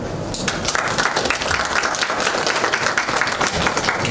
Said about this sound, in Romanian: sală, sunt aplauze, nu știu dacă se aud și online